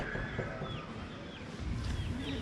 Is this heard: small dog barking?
no